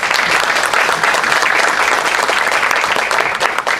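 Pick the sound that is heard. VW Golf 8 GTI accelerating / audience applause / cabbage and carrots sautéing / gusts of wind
audience applause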